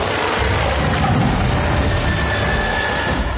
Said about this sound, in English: That, in fact, the chopper's coming right over the top of me.